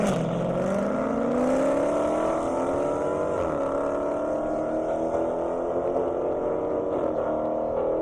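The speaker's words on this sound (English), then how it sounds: "Brendan Doolittle back in that Challenger. Jason Burrow in the Hellcat." A Dodge Challenger and a Hellcat run a half-mile airport drag race at Indy, a loud sustained engine roar that climbs in pitch through the gears and shifts, heard without talk.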